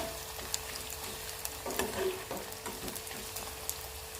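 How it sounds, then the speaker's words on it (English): Chopped ginger frying in coconut oil in a pan on a gas stove, a close, continuous crackling sizzle with a few brief stirring scrapes. "Then fry chopped ginger."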